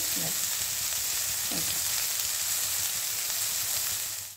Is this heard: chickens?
no